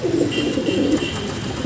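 Home-kept China pigeons coo in a low, rolling run, near and steady, with no voices over them.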